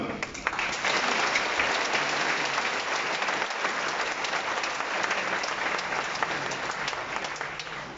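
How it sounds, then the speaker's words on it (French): Congregation at a parish patronal feast Mass applauding loudly and continuously, a full, sustained roar of many hands that holds steady before easing slightly at the end. "je vous invite à applaudir très fort pour quelqu'un"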